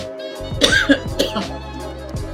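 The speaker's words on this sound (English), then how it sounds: "Sorry, I'm coughing." Several close, throaty coughs in quick succession over a steady background hum, with a brief vocal sound mixed in.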